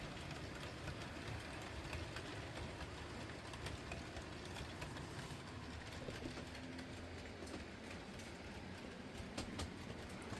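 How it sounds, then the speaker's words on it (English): A model class 37 diesel passenger train rumbles steadily throughout, with a continuous low engine drone and faint track clatter, moderately distant and without talk. "the class 37 passenger train is now heading back down to the yard"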